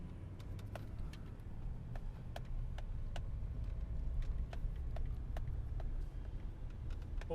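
Steady low engine and road rumble inside a pickup truck driving through town, with faint intermittent clicks and ticks over the drone and no talk.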